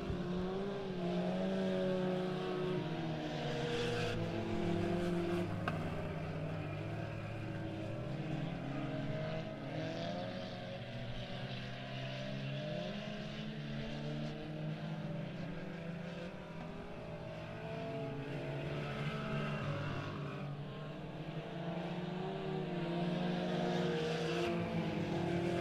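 Race cars roaring around the oval at Bolivar Speedway, a steady loud engine drone rising and falling as the pack passes, with no talk over it.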